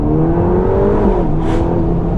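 A Ferrari Roma drives through a village with a loud, steady engine drone and whirring tone that rises slightly, close to the microphone, with no talking.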